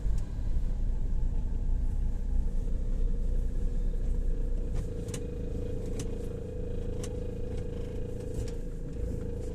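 Car gearbox being overhauled, running steadily with a dense low mechanical rumble and a light intermittent rattle from a loose part, close and continuous throughout.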